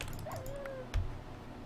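A Minecraft dog gives a single high whimpering whine that slides downward, then a soft thump, faint against a steady game background with keyboard clicks.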